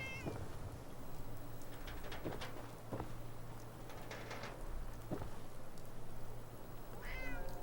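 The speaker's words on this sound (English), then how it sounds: "I hear a cat." A cat meows a few times, faint and somewhat distant, over a steady low hum and scattered clicks, in the video game Fallout 4.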